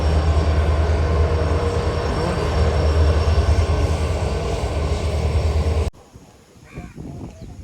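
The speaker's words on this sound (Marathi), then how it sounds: "आपली रेल्वे निसर्गाच्या सानिध्यातून कशी जाते बघा" A passenger train rolls through countryside near a waterfall with a loud, steady rumble and clatter of wagons and faint wheel squeal. It cuts off abruptly near the end, leaving quieter outdoor sound.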